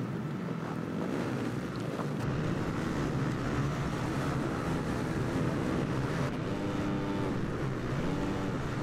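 Motocross bikes race across dirt in MXGP 2020, with a steady, loud blend of engine drone and rushing noise filling the whole stretch and no pauses.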